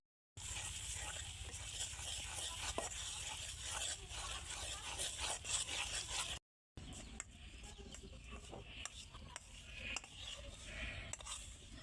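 Flour being stirred into melted sugar in a pan while making kutkuti, giving a steady scraping, sizzling stir that runs continuously and close, with a brief break midway and no voices.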